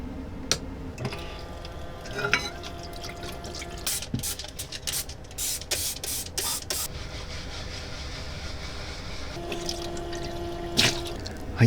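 Dishes washed with a sponge and water in a camper van sink, with running tap water, drips, scrubbing and clinking of plates close by in a small cramped space, intermittent bursts over several seconds.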